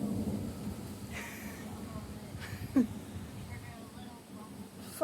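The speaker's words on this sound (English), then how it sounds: "Sorry about the thunder," Thunder rolls during a night thunderstorm in Hanover, Ontario, a low rumble with rain, under people talking, with a couple of sharper cracks standing out.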